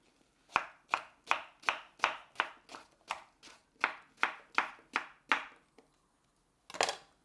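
A knife chopping through food on a cutting board, about a dozen sharp, evenly paced chops close by, then a brief pause and one last cut, with no talk.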